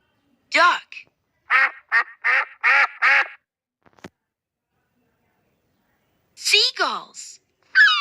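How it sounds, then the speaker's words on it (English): A duck quacks repeatedly in a quick series of loud, nasal calls at close range, pauses through a quiet stretch, then lets out another burst of quacks. "Duck."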